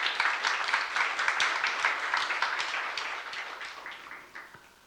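A church youth congregation applauds, giving glory to God. Many hands clap in a brisk, lively patter that stays fairly loud and then gradually fades over about five seconds.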